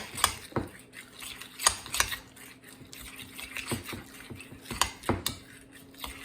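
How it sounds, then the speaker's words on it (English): Deviled egg filling being mixed in a bowl, with a utensil scraping and clinking against the sides in irregular close strokes and soft mushy stirring between them, no talking. "And mix that together."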